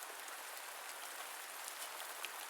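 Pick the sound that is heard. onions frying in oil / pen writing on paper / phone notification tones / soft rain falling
soft rain falling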